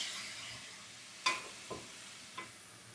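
Chicken samosa filling of boiled chicken, onion, garlic, grated carrot and spices frying in oil makes a soft hissing sizzle, broken by three distinct knocks of a stirring utensil against the pan.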